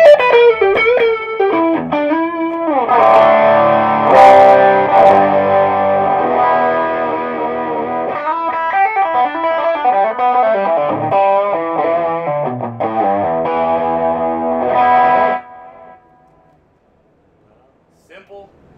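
Electric guitar played through pedals into an Orange TremLord 30 or Pedal Baby 100 amp, heard as loud, effected melodic phrases with chords and bends, ending abruptly and fading to near silence.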